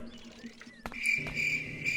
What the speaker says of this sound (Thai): เสียงจิ้งหรีด